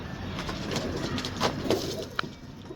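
Pigeons cooing softly at a distance under a hissy background, faint and intermittent with a couple of sharper knocks near the end.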